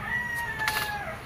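A rooster gives a single drawn-out crow lasting about a second, fairly loud and close, with steady background noise and no talking.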